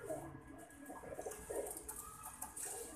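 Soft pigeon coos, a few low rounded calls close by, spaced irregularly over a quiet background.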